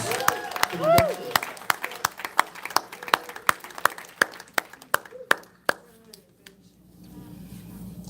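Rhythmic hand clapping from a church congregation at an anniversary service, steady beats continuing for several seconds while a voice sings or speaks over it early on, then fading.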